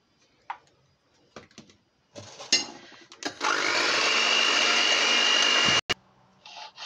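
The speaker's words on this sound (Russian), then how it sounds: "И хорошо смешиваем до пышности, взбиваем." Electric hand mixer whisking eggs with a pinch of salt, running steadily for about two and a half seconds after a few knocks and clatters of preparation, then cutting off abruptly.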